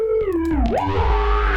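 A gritty, distorted synth bass tone slides downward in pitch and then holds a thick, buzzing sustained note.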